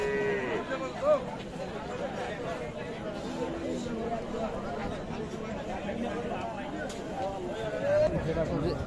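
A young Sahiwal heifer moos faintly amid farmyard background noise at a cattle market, with people talking nearby throughout.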